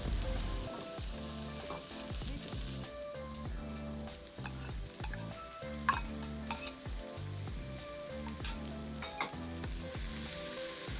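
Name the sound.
garlic and chili stir frying in oil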